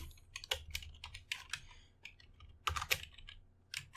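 Close, quiet typing on a computer keyboard, an irregular run of light clicking keystrokes with small pauses and a few firmer presses, no talking.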